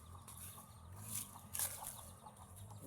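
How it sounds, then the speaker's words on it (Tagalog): Pet chickens on a Filipino backyard farm cluck in short, scattered bursts against a steady low rumble of farm background noise, some calls fairly close and louder, others softer. "Mga alaga din po kaming manok."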